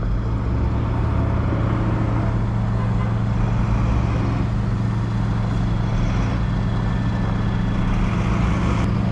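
Trucks and other vehicles rumble with a dense, continuous low engine drone while being loaded onto a ferry in Chilean Patagonia, with faint higher clanks and whines above the steady roar.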